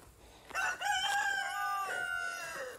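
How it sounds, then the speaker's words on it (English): Roosters crow close by in one long, loud, wavering cock-a-doodle-doo, with overlapping calls at the start, and no talking. "It's a symphony of roosters."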